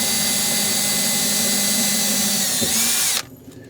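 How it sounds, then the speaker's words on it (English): A power drill pre-drills a hole to mount a model railway signal decoder, running as a loud, steady whine close by, rising in pitch near the end before it stops abruptly. "Just pre-drill a hole,"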